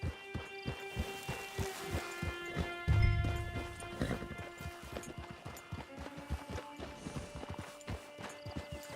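Horse hooves clip-clop in a steady walking rhythm in Red Dead Online, with a brief heavier thud partway through and a faint background drone beneath the even footfalls.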